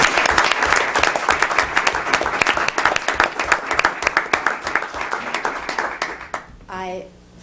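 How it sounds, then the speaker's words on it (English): Audience applause at a school board meeting honoring a Hastings resident, dense clapping from a crowd lasting about six seconds, then fading as a voice begins speaking at the end. "So a round of applause for Paula"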